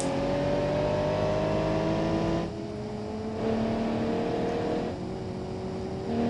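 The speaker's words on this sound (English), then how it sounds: "Yeah, you can hear the car catching up." A chasing car's engine in the BeamNG.drive driving game drones loudly with rising, shifting pitch as it accelerates and eases off, a continuous mechanical roar with no talking.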